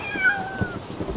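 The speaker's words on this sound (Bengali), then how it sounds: "বিড়ালটা ডেকে উঠলো।" A single cat gives one short, clear meow close by, rising then falling over a faint background rumble, in an animated comedy episode.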